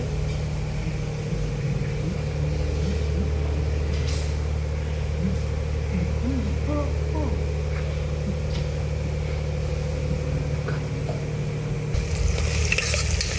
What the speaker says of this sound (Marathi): कांदा गोल्डन कलरचं झालेलं ऑलमोस्ट. थोडंसं करपलेलं आहे.